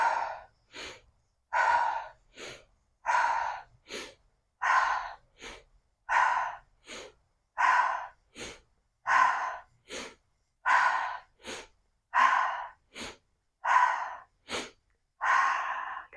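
During a heart chakra breathing practice, a person breathes deeply and steadily up close, with slow alternating inhales and exhales repeating in an even rhythm across roughly a dozen breath cycles, with no speech.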